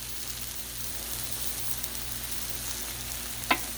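Chicken breast cooking on a Blackstone flat-top griddle, a steady soft sizzle running through the whole stretch with a brief sharp crackle near the end, no talking.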